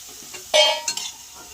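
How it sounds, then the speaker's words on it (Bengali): Potatoes that were frying in a pan for a dried-fish curry are lifted out: a sharp scrape of a spatula, then soft sizzling and a couple of light clinks, close and brief. "আলুটাকে আমি ভালো করে ভেজে তুলে নেব"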